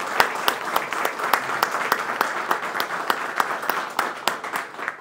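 Audience applause at the inauguration of the Associação Rodinhas de Portugal headquarters in Bairro da Rosa, a moderate crowd clapping steadily with a few sharp, distinct claps standing out near the front, heard alone.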